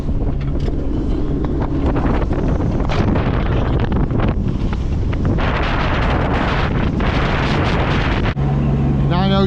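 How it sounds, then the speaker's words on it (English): Strong headwind roars across the microphone aboard a sailboat passing through Puffin Sound, a loud continuous buffeting rush with water and hull noise beneath it, lasting throughout. "The wind's still on the nose, and we're just coming through Puffin Sound."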